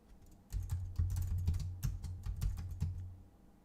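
Rapid keystrokes clatter on a computer keyboard, a close, fairly quiet burst of irregular clicks lasting about two and a half seconds before stopping, with no talking.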